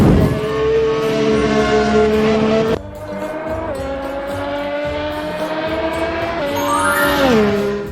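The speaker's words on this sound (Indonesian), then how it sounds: "Ini dia sang juara sirkuit, mobil balap Formula One." A Formula One race car engine screams loudly and close by, its high revving tone holding steady, dropping abruptly, then climbing and sliding through gear changes with no talking.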